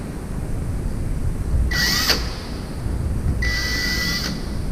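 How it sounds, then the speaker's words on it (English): Power drill makes two short, high whining bursts while pre-drilling screw holes in PVC base trim in a shop, each about half a second long and separated by a pause, over a steady low background hum. "So I pre-drill all these, really just to mark it."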